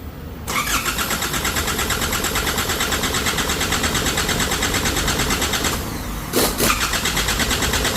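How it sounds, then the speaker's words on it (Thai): A car engine that has suffered an overrun cranks, catches and settles into a steady rattling idle, loud and close, with a brief surge of revving near the end. "แต่เครื่องยนต์เขาติดแล้ว โอ้รรันนะครับ"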